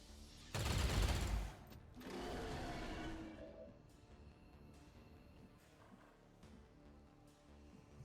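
Gunshots in the video game XCOM Long War of the Chosen: a loud, close burst of fire followed by a second, softer volley, then quieter game ambience.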